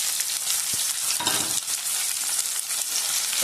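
Chopped onion sizzles steadily in a hot pan with oil, a dense continuous hiss broken by a couple of brief stirring scrapes, close and without any talking.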